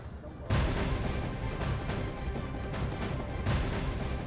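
A big explosion from a strike on Hezbollah positions in southern Lebanon. It opens with a heavy, deep boom, then a long rumbling roar, and a second booming blast follows about three seconds later.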